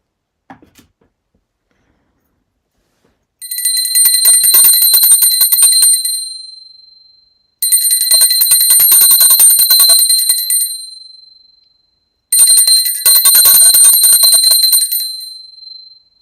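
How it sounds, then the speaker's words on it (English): Small ritual bell rung during a planetary pooja: three bursts of bright, sustained ringing, each lasting about three seconds and fading out, separated by brief silences, clear and close with no voices. "Now, I take a bell to offer the element of sound."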